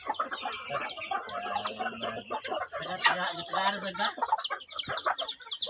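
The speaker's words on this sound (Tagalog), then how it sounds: "Daghan kay manok oh." Chickens cluck and squawk in a busy farmyard flock, with overlapping calls close by and a brief rooster-like crow, while a person speaks faintly underneath.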